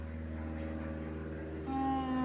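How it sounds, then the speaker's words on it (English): A steady drone from an aeroplane passing overhead, a constant low hum with sustained tones that swell and shift in pitch toward the end. "wow, the aeroplane is passing. Sorry for that noise."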